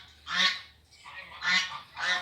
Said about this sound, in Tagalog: Mga gansa naman, oh.